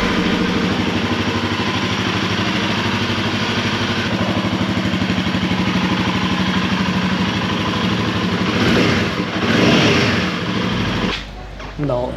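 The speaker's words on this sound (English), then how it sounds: "So let's start the bike and see." Royal Enfield Himalayan 450 motorcycle engine starting up and settling into a steady, close, even idle with a constant throb, revving briefly near the end before cutting off.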